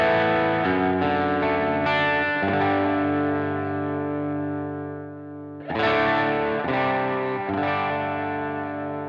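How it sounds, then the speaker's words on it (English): Electric guitar through a Hotone Ampero Mini multi-effects unit with the guitar volume backed off, still sounding distorted with a chorus-like shimmer; strummed chords ring and sustain in two phrases with no talking. "What's it like when you back the guitar volume off?"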